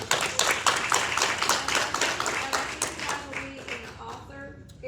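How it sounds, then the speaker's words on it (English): Audience round of applause at a book event with an author panel, a dense steady wash of many hands clapping that continues for several seconds before thinning out toward the end. "Give yourself a round of applause."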